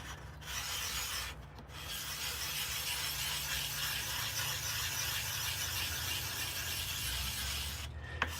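Sharpening stones are rubbed together to work up a slurry, a steady gritty scraping and squealing rasp that runs continuously at close range, faint in level, with no talk.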